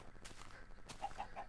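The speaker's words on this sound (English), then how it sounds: "Check it out. Chickens!" Chickens in the Minecraft video game cluck three quick, evenly spaced times, faint and short over a low background.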